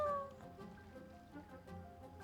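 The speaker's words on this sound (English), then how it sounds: "Kitty!" A cat meows in the video game Genshin Impact, a short bright call at the start that fades under quiet game music and ambience.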